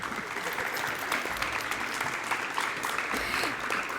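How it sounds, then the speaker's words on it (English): A crowd applauds at a school letter-of-intent signing ceremony, a dense, steady roar of clapping that holds for the full four seconds with a few scattered cheers inside it. "Let's give one more big round of applause for Mr. and Mrs. Perez."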